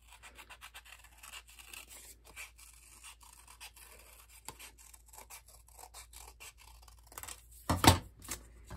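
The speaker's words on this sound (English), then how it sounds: "with your scissors, you just cut it" Scissors snip around a paper heart template, a run of small close crisp cuts and rubs, ending in a louder burst of rustling paper.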